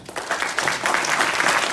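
An audience applauds a speaker, Dr. Matthew Tan, at the close of a talk, with dense, steady clapping that swells within the first moments and holds at a full, even level.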